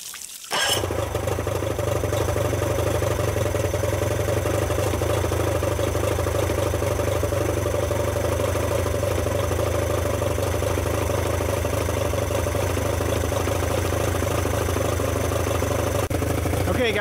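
A Johnson 40 HP outboard motor starts and settles into a steady, close idle while warming up, a continuous loud mechanical drone with light clatter and no talk.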